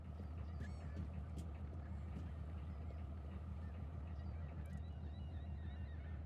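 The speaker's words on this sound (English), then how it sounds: "Oh, you heard the dolphins." Dolphins in the fishing game Fishing: North Atlantic, heard from a lobster boat at sea: a few brief high whistling chirps rise over the constant low drone of the boat engine.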